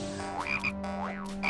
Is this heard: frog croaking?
yes